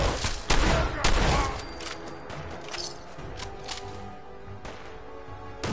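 Gunfire in Fallout 4, loud sharp bursts in the opening two seconds, then quieter scattered pops and clatter over low game ambience.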